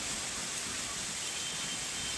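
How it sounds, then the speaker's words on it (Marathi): Heavy monsoon rain pouring over Ulhasnagar, a steady, dense hiss of falling water that holds constant throughout, with no voices. "अनेक ठिकाणी पाऊस पडतोय मुसळधार पाऊस होतोय"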